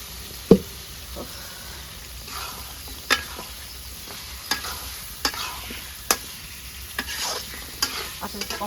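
Spices sauté in a pan on a clay stove, a soft steady sizzle broken by sharp intermittent knocks and scrapes of stirring, close and fairly quiet with no speech.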